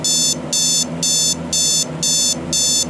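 A digital alarm clock sounds its standard tone: six evenly spaced bursts of loud, shrill beeping, each lasting about a third of a second with short gaps between, heard close up and alone.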